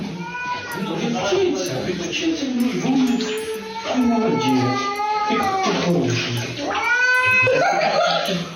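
A cat meowing and caterwauling during a bath, repeated drawn-out, wavering yowls close up, rising and falling in a continuous string of complaint with background noise.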